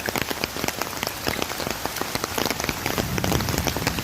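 Steady rain falls near an overflowing river at a stone-stepped bathing ghat in Muvattupuzha, a close, dense patter of drops that swells slightly toward the end.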